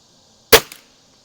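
A single sharp shot from a Cometa 300 air rifle firing a pellet, a crisp crack with a quick short echo, close and loud, with silence before and after.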